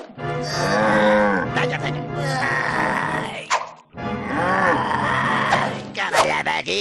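A cow moos loudly in the Crash Bandicoot video game, with long drawn-out lowing calls that fill most of the clip, pausing briefly near the middle before a second sustained moo.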